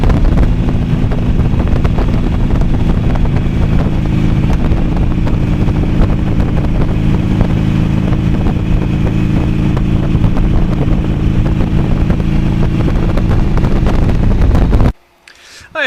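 Steady roar of a motorcycle cruising along a road that follows a river in Montana, heavy wind buffeting the microphone throughout, loud and constant, cutting out abruptly near the end.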